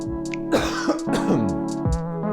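A few short coughs and throat-clearing sounds, close and fairly loud, with a steady tonal hum in the background.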